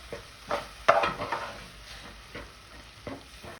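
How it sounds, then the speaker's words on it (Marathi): Masala spices frying in oil in a pan for a fish curry, a low hiss broken by a few scraping stirs of a spoon, fairly quiet and close. "आता मसालाही आपल्याला तेलावर छान असा परतवून घ्यायचा आहे"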